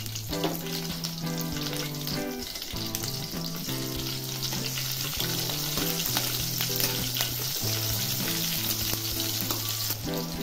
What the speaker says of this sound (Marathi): आता त्यामध्ये मिरच्या टाकणार आहे मी, अशा तोडूनच टाकणार आहे